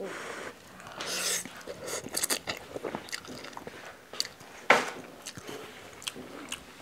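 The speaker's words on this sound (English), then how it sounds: "The noodle is al dente. It's not soft. It's a little crunchy." Crunchy Malaysian or Indonesian instant noodles being chewed close up, with irregular crisp bites and crunches, one sharp crack standing out, between quieter wet chewing.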